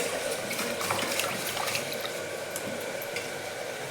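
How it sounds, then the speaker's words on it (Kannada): Continuous swishing and splashing of rice being washed in water, close and steady for the whole stretch with no voices. "ಆಮೇಲೆ ಅಕ್ಕಿನ ತೊಳೆದಿಟ್ಕೋಬೇಕು."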